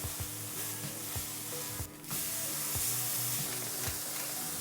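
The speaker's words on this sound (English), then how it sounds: "I cook the vegetables in this sauce" Vegetables sizzling and frying in sauce in a pan, with occasional stirring scrapes and a brief burst of hissing steam midway.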